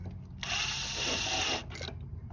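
A tiny drill bit bores into a tractor axle seal on a Sears GT garden tractor, giving a steady high motor whine for about a second before it cuts out and briefly restarts, close and fairly loud.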